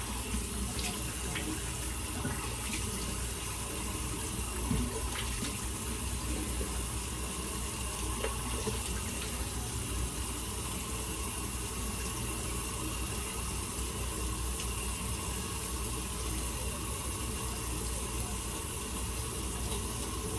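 Cold water streams steadily from a bathroom tap as soap is rinsed off a face during a shave, with a continuous, even rushing hiss and small occasional splashes and no voices.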